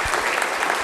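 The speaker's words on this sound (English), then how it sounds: "If we could have a round of applause, please." Audience at an annual gala dinner giving a round of applause for a sponsor, a brief, loud, dense burst of many hands clapping together.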